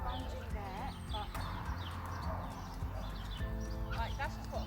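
A new horse is ridden during a schooling session, with steady, close clip-clop hoofbeats, brief whinny-like calls and some talking over the top.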